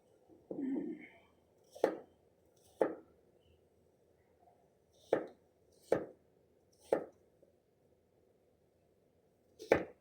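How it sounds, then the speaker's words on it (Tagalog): A knife chops vegetables for a salad on a board, about seven separate sharp, close cuts spaced irregularly with quiet gaps between them. "hiwain na natin ng paramihan"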